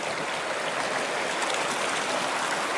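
Freezing cold Andes meltwater stream flowing at Incahuasi, 3,800 meters above sea level, a steady, loud, broad rushing of water, close by and uninterrupted, with no voices.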